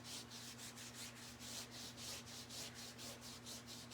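Wood being hand-sanded with 220 grit sandpaper along the edges of a 1980s hall tree during a farmhouse-style makeover, a steady rhythmic back-and-forth rasp of about two strokes per second, close and continuous with a low background hum.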